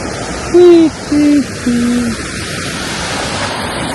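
A river flows with a steady, even rush of water throughout, and three short, tonal hoot-like calls sit over it near the start.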